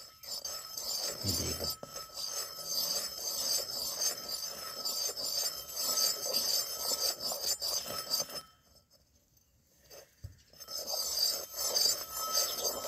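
Ingredients are ground in a mortar and pestle with a steady, close rasping and rubbing that continues for several seconds, stops briefly, then resumes.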